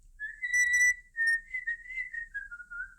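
A person whistles a clear, wavering melody of sustained notes that slide downward, solo and close with no talking.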